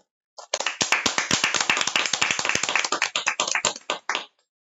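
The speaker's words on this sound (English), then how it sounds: "Let's give all our young writers and illustrators another round of applause for their devoted work and creativity" Audience applause for young writers and illustrators at a children's story competition celebration ceremony: a few seconds of fairly close, sharp hand claps that start abruptly, hold steady and end cleanly, with no talk over them.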